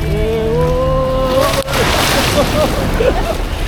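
Waves slosh and splash against a boat hull off El Nido, Palawan, a steady broadband wash throughout with a brief dip midway, while a tonal sound that may be voices or music drifts beneath in the first half.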